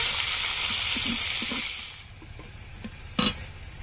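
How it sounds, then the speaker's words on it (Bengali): Chopped onions fry in a pan for a cauliflower and prawn curry, with a loud hiss of sizzling that drops off midway, followed by a few stirring scrapes and a sharp clank of utensil on pan. "পেঁয়াজ কুচি, ভালো করে পেঁয়াজটা ভেজে নেব।"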